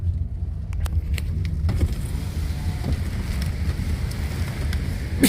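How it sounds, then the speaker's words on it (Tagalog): Steady rain hisses continuously at an outdoor basketball game, with faint ticks and taps from drops landing on a nearby surface, and a low rumble underneath. "Bumalik na naman yung ulan."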